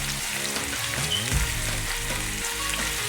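Onions with salt cook in a pan for tomato dhal, giving a continuous close sizzle with a sustained tonal, music-like layer underneath and no talking.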